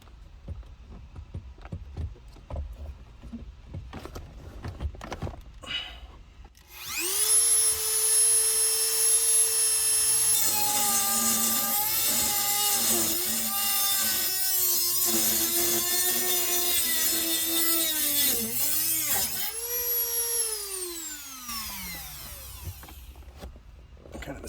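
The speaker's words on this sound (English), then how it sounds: "see how well the old Dremel holds up. Max speed, of course." An old Dremel rotary tool runs at max speed cutting plastic in a Ram truck interior, a loud whining high-pitched motor with pitch wavering as it bites, after quieter handling noises at the start.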